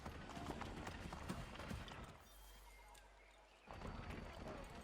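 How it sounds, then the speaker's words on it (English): Horse hooves clip-clop in Assassin's Creed 3 Remastered as a rider pushes through crowded colonial Boston streets, a busy rhythmic patter under crowd noise that drops away briefly in the middle before resuming. "Man on a horse coming through."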